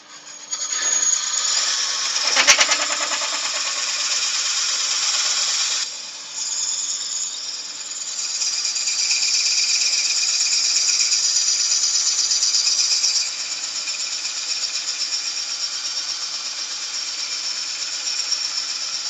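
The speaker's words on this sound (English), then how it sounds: "You can hear it stalling the lathe a bit." A laburnum log spins on a wood lathe while a tool cuts it, producing a steady, loud rasping hiss with a sharp knock early on and slight dips as the lathe bogs down.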